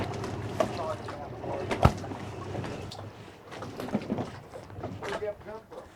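A small boat runs across open water toward a ramp. The engine drones low, water slaps and splashes against the hull, and wind buffets the microphone, with a voice heard at moments.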